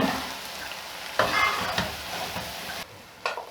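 Rice being stirred into jaggery syrup in a pot, with a few scraping stir strokes over a soft bubbling sizzle and short pauses between them.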